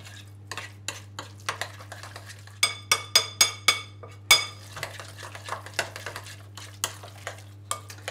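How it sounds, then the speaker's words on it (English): Bao zi filling being stirred in one direction in a bowl with a utensil, a run of light scraping and clinking strokes, close and fairly quiet against a steady low hum, with no talking. "And then you mix very well, you know, to one direction only, not all directions."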